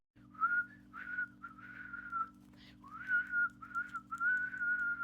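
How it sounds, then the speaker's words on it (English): A single person whistles a sustained, wavering tone in several phrases separated by short breaths, close and clear over a low steady hum, as part of a Kundalini yoga kriya. "You actually get to whistle the tone."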